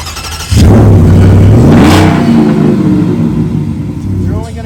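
A Ford truck with a 5.0 Coyote V8 topped by a 3-liter Whipple supercharger fires up loudly and revs, the engine note rising and falling through two strong pulls before settling, close and dominant.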